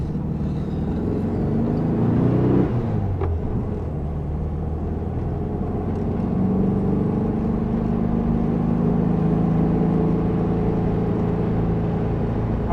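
A 1972 Volkswagen Super Beetle pulls away up a street, its engine giving a loud, steady rumble that rises in pitch for a few seconds and then settles into a constant drone, with no talking.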